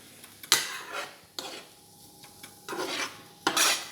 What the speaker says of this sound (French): on va donc pousser un petit peu nos lardons et nos échalotes